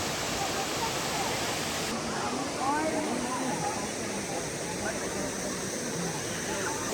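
Water pours forcefully through Khodiyar dam at Dhari in Amreli, a dense, steady roar of rushing water filling the whole scene at close range, with a voice talking faintly over it.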